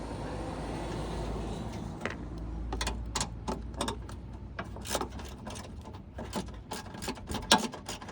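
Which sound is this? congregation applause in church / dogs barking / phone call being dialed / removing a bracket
removing a bracket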